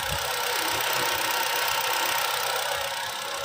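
A Chevrolet Spin engine runs at a steady idle with a continuous hum and light knocking vibration, close up with no talking.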